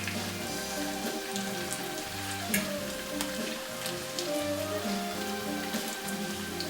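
Meat patties fry steadily in a pan over medium heat, a dense, even sizzle and crackle with scattered pops, close and continuous with no talking.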